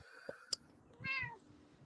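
A vocal pet cat gives a clear drawn-out meow after a couple of short clicks and knocks, close by in a quiet room with no talk.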